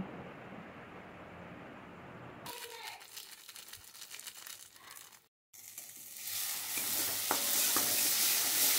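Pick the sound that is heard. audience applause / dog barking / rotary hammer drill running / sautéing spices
sautéing spices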